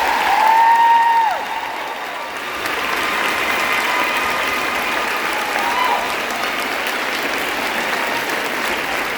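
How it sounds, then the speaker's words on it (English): Broad steady applause fills a large hall at a school district convocation, a continuous wash of clapping with a brief whistle-like tone at the start and again midway. "One more big round of applause."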